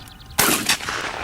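A single gunshot cracks loudly at a family shooting range, its sharp report followed by a rolling echo and rumble that trails off over the next second.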